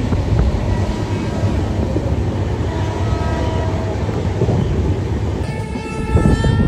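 A moving train bound for Howrah rumbles loudly and steadily toward Mankar station, wheels clattering on the rails, with a horn-like tone rising near the end.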